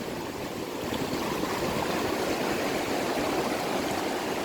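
Clear, cold river water in Kings Canyon rushes steadily and close by, a dense, even broadband roar with no pauses and no voices.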